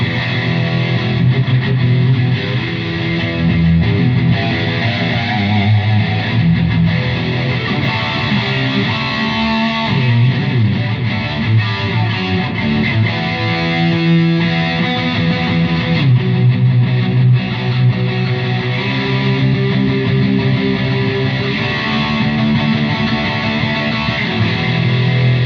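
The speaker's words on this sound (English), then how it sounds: "Okay, so this is the Strat on the treble pickup." A Fender Stratocaster on its treble pickup with the tone controls fully up plays a distorted, dirty tone through an Ampero processor, sustained riffs and chords ringing continuously for the whole stretch without any talking.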